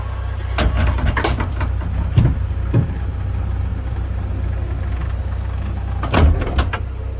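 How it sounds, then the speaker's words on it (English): The doors of a 2021 Chrysler Pacifica ADA wheelchair-accessible van close over a low, steady engine idle, with a few distinct thuds and motor whirs spaced out across the clip. "close all the doors up"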